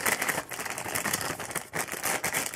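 Plastic bag holding miniatures being handled on a cluttered table, with steady close crinkling and rustling and small clicking pieces throughout.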